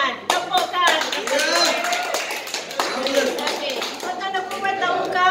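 Hands clapping in a presentation practice session, sharp repeated claps in uneven bursts, mixed with people talking and voices over them.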